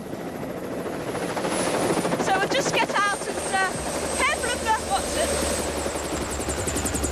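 A helicopter beside a small harbour village in County Kerry, Ireland, in 1988, its rotor and engine roaring steadily and loud throughout while people speak over it.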